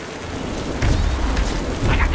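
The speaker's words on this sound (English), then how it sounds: "Can I do rain? That's not rain." A rain spell cast in the video game Magicka brings a steady hiss of falling rain and low rumbling thunder bursts. The sound is moderately loud and continuous, with no speech.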